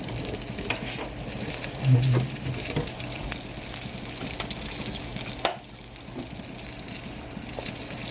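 Steady, loud sizzling of thick-cut pork chops frying in a pan, a dense crackling hiss throughout with a brief clatter near the end, close and without speech.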